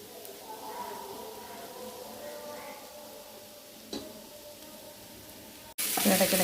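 A soybean and potato stir-fry sizzles gently in a pan with an occasional stirring knock, moderate and steady, then a sudden louder burst of frying near the end.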